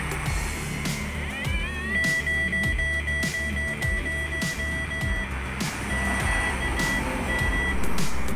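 Repeated electronic beeps from a gold metal detector sound in short bursts over a steady mechanical background hum, with no voices.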